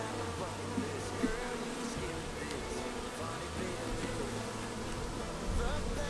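Honeybees buzzing around an open hive during an inspection, a dense continuous drone close by with individual bees passing near, under occasional handling noises.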